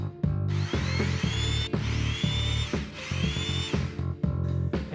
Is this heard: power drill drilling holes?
yes